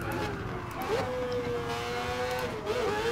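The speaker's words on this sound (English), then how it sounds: "give you an idea of what the big quad rotor can do when it's singing" A high-revving quad-rotor rotary race car engine in the video game GT Sport whines steadily, its pitch climbing and shifting through gear changes, loud and continuous with no talking.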